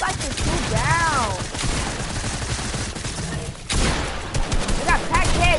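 A rapid crackle of gunshots rings out outdoors, loud and continuous, with voices talking and shouting over the shots, and a whistle-like tone is heard twice.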